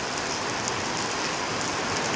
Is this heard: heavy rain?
yes